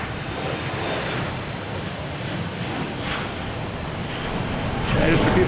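An American airliner bound for DC passes over Boston Logan Airport with a continuous broad engine roar that swells toward the end, while people talk over it outdoors.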